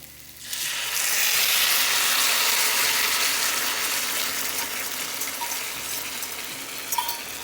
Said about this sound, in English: we put all of the cooked Salisbury steak in here, and then we're going to pour our sauce on